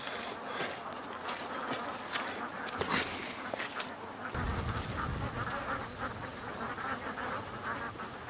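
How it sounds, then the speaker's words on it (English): A large crowd of ducks crammed into a creek quack and chatter in a dense, steady din with scattered sharper calls. Water and outdoor noise run underneath. "that's a crazy amount of ducks in the creek"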